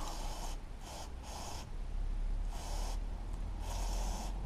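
Carb cleaner sprayed from an aerosol can onto a lawn mower spark plug, heard as several short hissing bursts in quick succession, fairly close and alone over a faint background.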